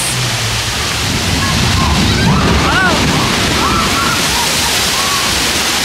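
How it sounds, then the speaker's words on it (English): Water splashes and sloshes in a loud, continuous rush close by, with excited voices briefly calling out over the noise. "Now that is a necessary amount of splashing."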